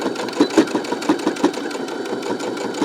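A sewing machine runs in a steady whir with rhythmic needle knocks while locking stitches on jelly roll fabric strips for a lanyard, close and fairly loud with no voices.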